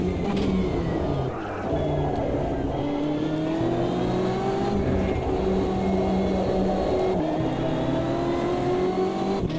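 Race car engine in Automobilista 2, a heavy, planted-feeling car, drones continuously and loudly with shifting revs and rising and falling pitch sweeps throughout, briefly dipping near the start.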